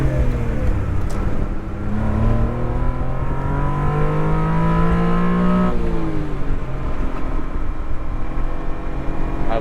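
A 1991 Honda Beat's small engine drones steadily at highway speed, its pitch climbing through a gear and then dropping sharply near the end before settling again, loud and continuous from inside the car.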